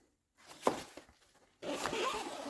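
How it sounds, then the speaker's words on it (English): The zipper of a July Checked Expandable 80L suitcase is drawn along its track in smooth, brisk rasping pulls, with a short pause between strokes, close by and fairly quiet. "The zippers are very nice to use."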